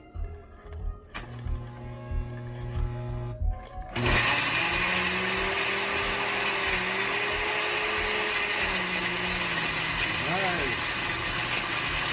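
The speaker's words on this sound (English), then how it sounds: "it's my first time using a blender in my life" A kitchen blender whirs steadily for about eight seconds as it blends shrimp curry ingredients. It starts abruptly after a few seconds of voices and background sounds, with a changing motor pitch.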